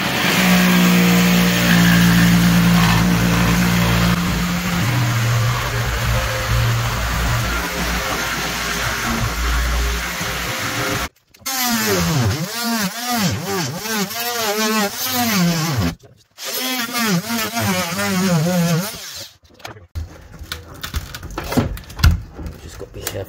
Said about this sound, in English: get the jigsaw, make a cut all the way down, then we can just lever the boards up